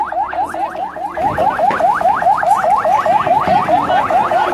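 An ambulance siren wails through Dhaka traffic near the Mohakhali flyover during shutdown street protests, a loud, steady, rapid rising-and-falling yelp repeating without a break, with a low rumble of traffic beneath.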